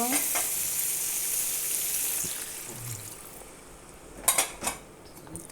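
Utensils scrape and clatter against a pan while stirring vegetables amid a steady frying sizzle, with a few sharper metallic knocks near the end.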